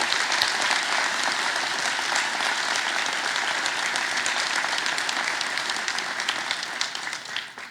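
Sustained applause from an audience at a mayor's New Year reception in Cusset, honouring the young municipal councillors: dense, steady clapping that continues evenly throughout and tapers slightly toward the end.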